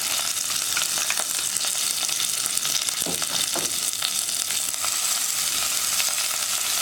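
Crushed onion, dried chili and curry leaves frying in hot oil for a village-style cowpea curry, a loud, close, steady sizzle with occasional soft stirring scrapes, with no talk.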